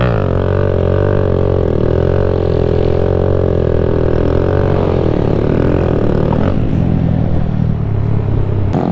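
A stunt motorcycle roars loud and close in second gear at a 2018 stunt meetup, holding a steady revving drone that wavers slightly before dropping in pitch near the end.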